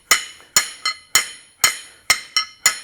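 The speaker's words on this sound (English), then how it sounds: "then we're going to strike it from the end, like so" Hammer blows on heated metal at an anvil edge, upsetting the stock end-on in a blacksmithing forging lesson; eight sharp, ringing strikes land in a steady, slightly uneven rhythm, close and loud, with no talk.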